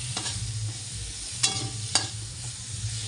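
Onion and tomato frying in a pan, a steady close sizzle with the scrape and clatter of stirring at a couple of points.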